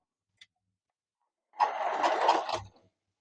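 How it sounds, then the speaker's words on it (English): A Hornby B12/3 model locomotive in wartime black, driven by an X04 motor with a brass worm gear, hums in a short close buzzing run of about a second, alone and otherwise quiet. "The sound of an X04 motor."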